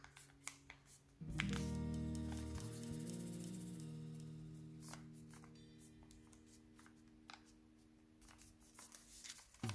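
Paper is pressed and folded into an origami fighter plane, with close crinkly rustles and sharp creasing sounds over a steady tonal hum, no speech.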